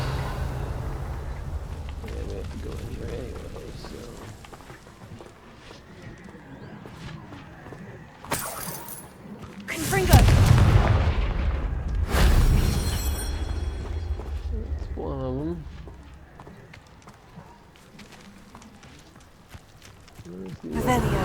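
Blasts from the Confringo fire spell in Hogwarts Legacy go off as a few loud bursts in quick succession, mixed with game sounds while a player talks over them.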